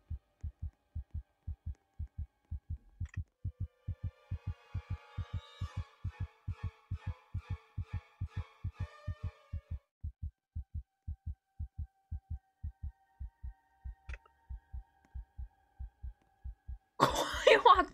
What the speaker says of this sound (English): My heartbeat is getting faster.